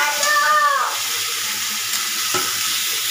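Potatoes and tomato added to a hot pan with salt, giving a loud steady sizzle close up, with a brief clatter near the start.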